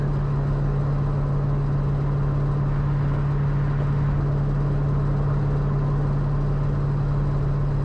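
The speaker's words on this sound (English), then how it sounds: "I get on and off the throttle here and there just so that the car is not running steady state" Cabin drone of an Ultima RS sports car cruising on the highway, a loud, steady engine and road hum with a strong low tone that barely changes throughout.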